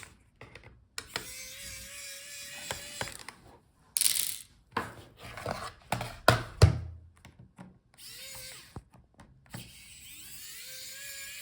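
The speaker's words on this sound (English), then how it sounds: "Start with bottom screws. You will need P5 Torx screwdriver." A P5 Torx screwdriver backs out the bottom case screws on a Lenovo Flex 7 14IRU8 laptop, giving close, intermittent clicks, ratcheting ticks and light scrapes with short pauses between them. Nobody speaks.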